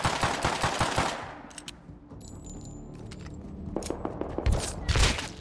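Gunfire in the video game Rust, quick rapid bursts of shots up front that trail off, then a quieter stretch before more sharp shots and heavy thumps near the end, loud and close.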